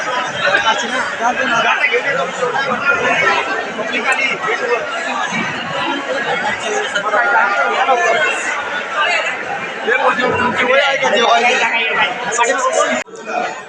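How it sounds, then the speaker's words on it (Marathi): Dense crowd chatter fills a village communal meal where hundreds of people have gathered to eat, a steady loud babble of overlapping voices throughout with a brief drop near the end. "मित्रांनो जेवणासाठी खूप गर्दी इथे इथे बघू शकता"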